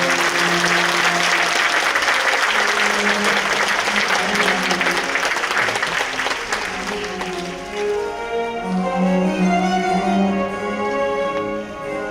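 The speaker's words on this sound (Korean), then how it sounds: "큰 박수 부탁드립니다." Applause fills the hall at a mayoral inauguration ceremony, with a large crowd clapping loudly and continuously as music plays beneath and gradually comes through as the clapping eases.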